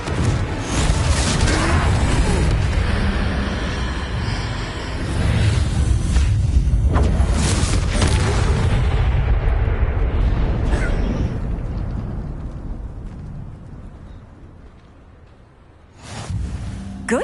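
Confringo fire spells blasting repeatedly in a Harry Potter Hogwarts video game, a dense run of booming explosions and whooshes for most of the stretch, easing off briefly before another burst near the end, with some speech mixed in.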